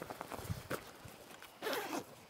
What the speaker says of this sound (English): there's one zippered pocket inside here.